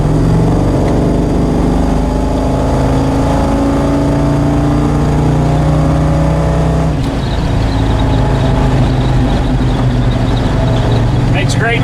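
A loud, steady engine drone rumbles continuously, with the pitch shifting partway through as the engine revs.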